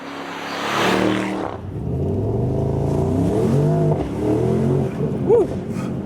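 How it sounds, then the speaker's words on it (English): A Mercedes-AMG SL 63 roars from a standstill to 40 mph, its engine note climbing in steady harmonic sweeps while the exhaust crackles and pops, heard loudly from inside the car with a brief voice near the end. "That was 0 to 40 miles an hour with a lot of fireworks from the exhaust"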